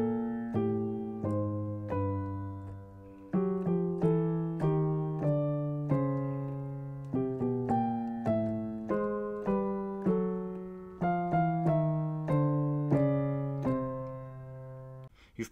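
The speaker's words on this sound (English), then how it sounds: "So if I do it slowly, just with the bass notes and the melody notes, it sounds like this." Slow, plucked guitar notes, a low bass note paired with a higher melody note, ringing out one after another in a calm, even pace.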